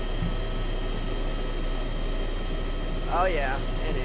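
A helicopter engine in the game DayZ drones with a steady mechanical hum from start to finish, heard up close with a short tonal sweep near the end.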